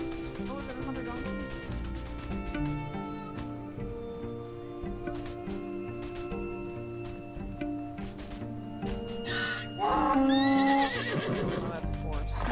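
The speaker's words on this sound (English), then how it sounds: "Oh, that's a horse." A horse gives a loud, close whinny near the end, after a stretch of other animal calls and hoof clip-clops.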